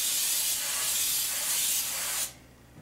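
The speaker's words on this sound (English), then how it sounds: "Take our pan spray on the other cookie sheet." Cooking spray hisses steadily onto a cookie sheet for about two seconds, a close, loud, bright aerosol burst that cuts off abruptly, leaving quiet room tone.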